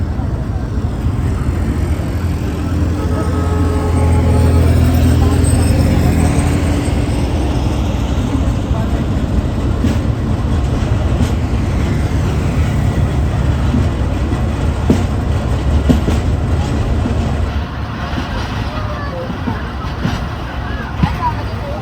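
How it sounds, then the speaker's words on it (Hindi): A passenger train rolls along slowly, a loud continuous rumble of wheels and carriages with faint rhythmic clatter, while voices murmur in the background. "आहिस्ता आहिस्ता हमारी ट्रेन चल रही है"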